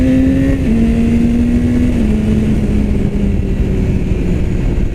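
A 2016 BMW S1000R motorcycle accelerates hard through quick-shifter upshifts: a loud, close, continuous engine roar whose pitch drops in small steps at each shift, with no voices.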